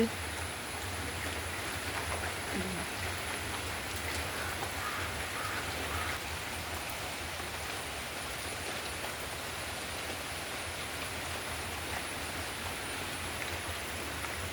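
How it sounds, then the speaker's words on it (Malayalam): Steady rain falling outdoors, a faint, even hiss of drops that continues without a break, heard alone at a distance. "മഴ ഉണ്ടല്ലേ ഒരേ മഴ"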